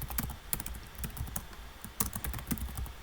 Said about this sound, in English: you want to type that in here